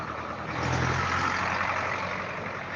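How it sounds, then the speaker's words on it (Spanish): A tractor passes outdoors as a steady, loud engine rumble that swells slightly and then holds, with no talk over it. "Dejen que pase ese tractor"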